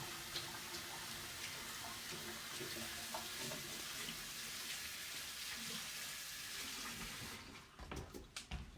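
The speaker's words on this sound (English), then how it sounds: "Wash my hands just a second here." Water runs steadily from a kitchen tap while hands are washed, making a continuous close splashing rush that cuts off near the end, followed by a few soft clunks.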